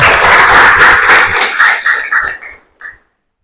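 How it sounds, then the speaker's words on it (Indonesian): A class of students claps hands together in a classroom, a loud, dense burst that quickly thins into a few scattered claps and stops. "tepuk tangan"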